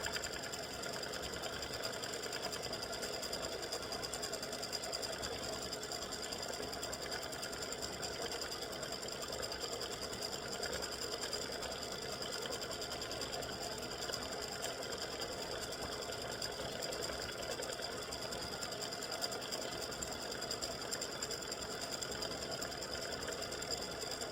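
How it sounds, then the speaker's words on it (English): A computerized embroidery sewing machine stitches freestanding lace Easter bunny earrings, giving a steady, fast, even mechanical whir and needle chatter that runs unbroken and close at moderate volume, with no voices. "the bunny has finished stitching"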